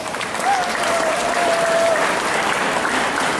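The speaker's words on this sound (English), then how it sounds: "let's give them a round of applause." Audience applause for the class of 1967 at an Easter High School golden anniversary celebration: a dense, steady burst of crowd clapping, close and fairly loud, with a faint whistle-like tone briefly rising above it.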